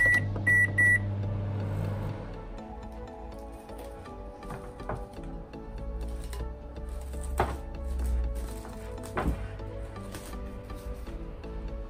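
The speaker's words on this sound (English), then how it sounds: "Quick stir and back in the microwave for 3 minutes." A steady low hum of a running microwave oven cooking rice and peas, with a few short beeps at the start and faint clicks and rattles throughout.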